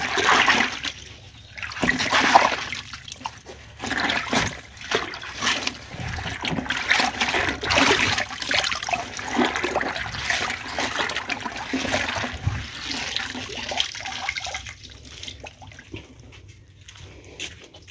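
Running water splashes and trickles steadily as piglet feed is washed on a farm, a close, fairly loud gush that rises and falls unevenly without speech.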